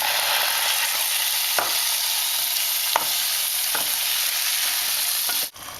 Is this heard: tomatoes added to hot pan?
yes